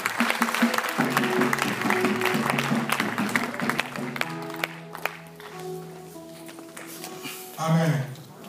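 A church congregation claps and cheers together, steady dense applause that fades out, followed by a voice speaking over the settling crowd.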